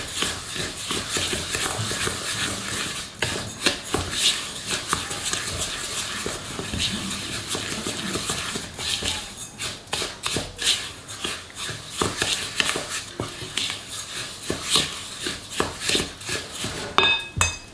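Semolina being stirred with four spoonfuls of olive oil in a bowl, giving clattering utensil scrapes and clinks in an uneven run of close, busy knocks, with no talk.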